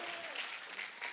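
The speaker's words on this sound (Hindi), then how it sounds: "तालियां अगर आपका मन हो तो बजा लेना" Studio audience applause on a comedy talk show, greeting a celebrity guest, as a brief, faint spatter of clapping with a voice briefly audible over it.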